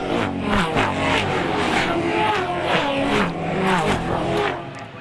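Loud Touring Car Masters race car engines roaring and revving, gear changes rising and falling in pitch, sustained and close throughout.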